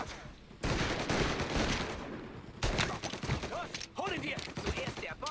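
Pistol shots in Mafia Definitive Edition crack out in repeated sharp bursts over a busy firefight, with a short lull between volleys and a voice briefly audible.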